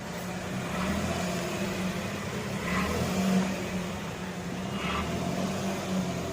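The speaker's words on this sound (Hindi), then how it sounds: "हमारी गाड़ी निकल चुकी है" A car pulling away on a road up a hillside toward the Vijayasan Devi temple at Salkanpur, with a steady engine drone, rising revs and broadband road noise lasting throughout.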